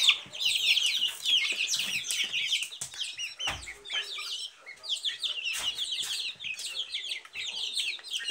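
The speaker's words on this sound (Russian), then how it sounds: "Такие цыплятки" A busy chorus of small Silkie chicks peeping rapidly and continuously, high and close, with occasional thumps and rustling.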